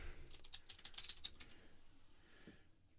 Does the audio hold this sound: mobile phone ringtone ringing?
no